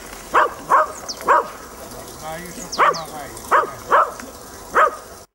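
A small dog gives a string of short, sharp barks and whimpering yips outdoors on a frozen lake during winter ice fishing, each call spaced about a second apart over a faint background hiss.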